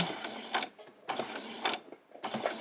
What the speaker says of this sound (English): I'll just do back stitch, come straight across.